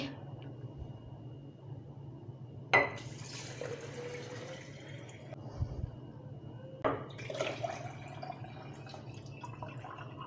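Water sloshes and pours as rice is rinsed in a mug, with two distinct splashing pours and some faint clinks over a low steady hum, close and fairly quiet.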